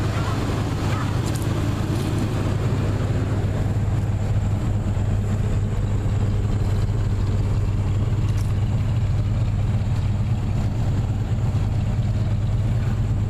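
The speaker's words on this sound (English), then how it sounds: "That's the most toneless exhaust I think I've heard in a long time." Idling 1979 Chevy truck engine with worn mufflers giving a flat, toneless exhaust drone, steady and close for the whole stretch, with no talk over it.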